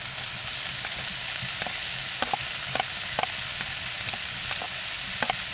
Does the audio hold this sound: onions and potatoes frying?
yes